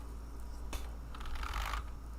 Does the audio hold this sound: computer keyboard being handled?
yes